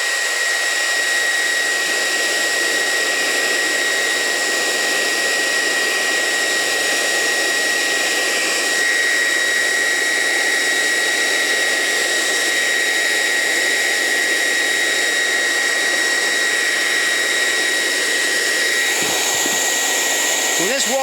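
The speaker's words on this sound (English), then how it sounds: "I'm warming up this glue a little bit so it'll come off a little easier" A heat gun roars in a continuous, loud, even blast while warming glue on an RV roof, with a slight shift in tone near the end.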